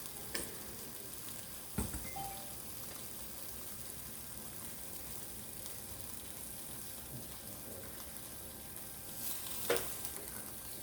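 Beef burger patty sizzling steadily on a smokeless electric grill while Texas cheeseburgers are cooked, a low continuous frying hiss with a few soft clicks and clanks from handling.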